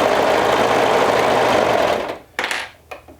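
A serger sewing machine whirs loudly and steadily up close, then winds down to a stop, followed by a couple of brief mechanical clicks.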